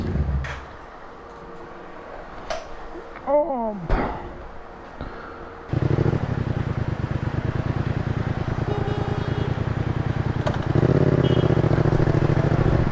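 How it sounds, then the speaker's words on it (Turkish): A motorcycle with its exhaust silencer fitted starts up after some clattering handling noises, then runs at a close, steady idle, and the note rises in level near the end. "Evet beyler bayanlar susturucuyu taktık."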